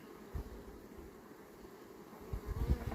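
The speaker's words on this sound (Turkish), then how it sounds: "Arı uçuyor." Honey bees flying around chestnut honey hives, a low, continuous buzzing drone with a few nearer swells as individual bees pass close, outdoors with no talking.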